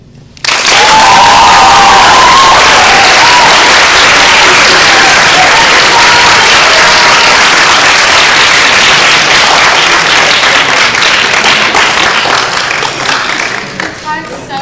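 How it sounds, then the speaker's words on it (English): Loud, sustained applause fills an auditorium after a student's speech at a speech and debate event, a dense wash of clapping with some crowd noise and a brief voice early on, tapering slightly near the end. "And another round of applause for Tessa."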